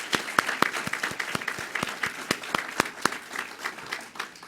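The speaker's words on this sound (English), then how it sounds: "Another big round of applause for our chancellor." A round of applause for a university chancellor after an address, a scattered crowd clapping with sharp individual claps standing out, moderately loud and fading slightly toward the end.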